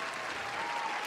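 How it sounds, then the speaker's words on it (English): A studio audience breaks into brief, steady applause on a hip-hop podcast, a dense wash of clapping that stays even and fairly soft throughout. "let's get a round of applause"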